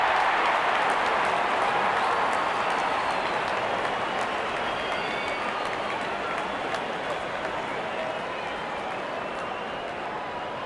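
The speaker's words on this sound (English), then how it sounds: "Out come the openers, cheered by a good crowd in." Steady crowd cheering and clapping in the cricket video game Real Cricket, filling the stadium as the openers walk out, a broad continuous roar held at an even level throughout.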